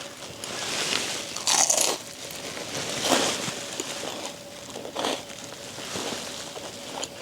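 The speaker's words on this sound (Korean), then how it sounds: "두릅튀김부터 먹어볼게요" Crunchy bites into fried fatsia shoots (dureup twigim) dipped in lemon soy sauce, close and loud, several distinct crisp crunches followed by chewing, with no talking, eaten outdoors at a solo campsite.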